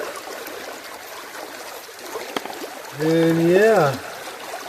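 Creek water runs through a gold sluice, a steady close trickle and wash throughout, while someone speaks briefly near the end.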